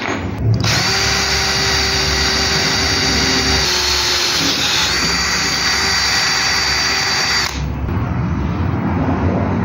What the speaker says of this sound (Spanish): Tengamos una buena guía y ya nomás nuestra broca pues ya vaya cortando solita